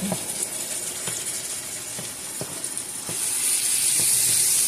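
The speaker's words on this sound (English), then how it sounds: "I like to fold in the meat and then chop it up" A spatula folds and chops beef enchilada filling in a pan, giving repeated soft scraping taps about every half second over a steady sizzle that grows louder toward the end, with no talking.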